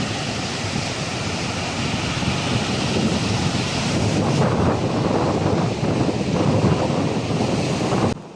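Sea waves washing onto the shore, a continuous loud roar of surf mixed with wind buffeting the microphone, steady for several seconds before cutting off abruptly.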